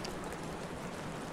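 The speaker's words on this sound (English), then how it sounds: "it's now raining." Rain falls on an isolated high-elevation mountain peak, a soft, even wash of hissing drops, fairly faint and unbroken, with no voices.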